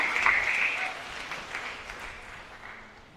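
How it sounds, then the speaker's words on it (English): Graduates at a school valedictory service applaud together, a crowd burst that starts loud and tapers off over a few seconds, with a brief shrill whistle or cheer near the start. "put your hands together, graduates, and clap yourselves"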